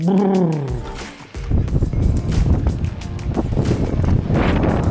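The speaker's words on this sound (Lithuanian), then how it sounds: "lietus lyja, vėjas pučia" Strong wind roars and gusts against the microphone in rain, a steady blustery rush, after a brief drawn-out vocal sound at the start.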